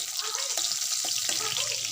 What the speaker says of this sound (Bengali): মাছের ঝোল বসিয়ে দিয়েছি তো একটু পাঁচফোড়ন দিয়েছি একটু পেঁয়াজ দিয়েছি